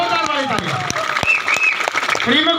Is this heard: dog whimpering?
no